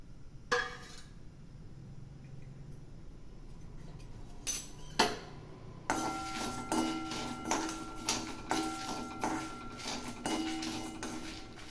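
Spice powder being dry-roasted in a pan for a Chidambaram brinjal kosthu, heard as a run of sharp metallic utensil scrapes and taps against the pan, fairly close and rhythmic, alone with no talking.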